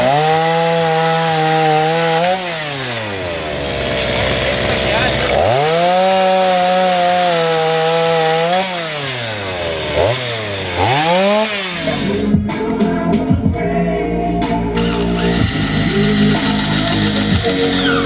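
A chainsaw cutting wood revs loudly and close, rising and falling in long sweeps, then gives way to rattling, scraping cutting noise toward the end.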